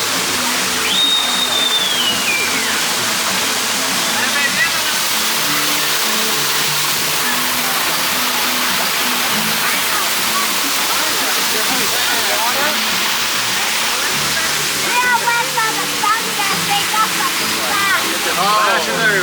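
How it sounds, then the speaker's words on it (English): Water splashes and pours continuously at Moana Journey of Water, EPCOT, a walk-through water attraction by a lake, with steady nearby rushing and spattering throughout and people talking faintly in the background. "Splashing everywhere, right?"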